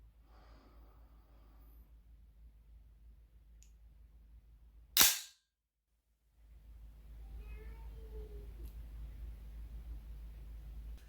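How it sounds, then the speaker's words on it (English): Aero Precision 10.5-inch A2 series AR-15 bolt release pressed, sending the bolt slamming forward with a single sharp metallic clack in a quiet room, followed by brief silence and then a faint low hiss. "Now I'm going to press the bolt release"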